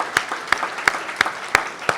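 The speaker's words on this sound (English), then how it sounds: "if we can give it a preemptive round of applause for an amazing set of speakers" Clapping at a tech conference keynote comes as sharp, evenly spaced claps about three per second, loud and close rather than a dense crowd roar, with no voices.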